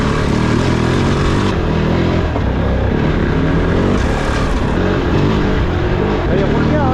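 A KOVE 450 rally motorcycle rides dirt trails, its engine roaring loud and close without a break and rising and falling with the throttle, while wind buffets the microphone.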